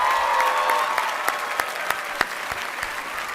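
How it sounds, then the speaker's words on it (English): An audience at the Cushing Academy class of 2025 commencement ceremony claps steadily in a dense, sustained round of applause, filling the hall. "Let's give them a round of applause."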